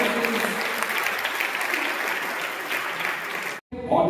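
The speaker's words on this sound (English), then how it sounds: "Let's give a round of applause for all the participants." A school audience applauds the participants of an interclass quiz competition, a dense, steady wash of clapping from a crowd that runs for several seconds and then cuts off abruptly.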